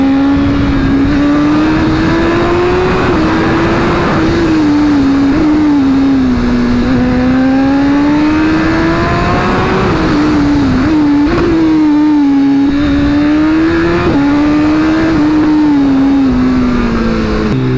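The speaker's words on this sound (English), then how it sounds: "I'm riding the S1000RR after so long" A BMW S1000RR superbike's engine drones loud and close while riding, pitch rising and falling smoothly with throttle, with wind rush over the sustained roar and a brief dip mid-ride.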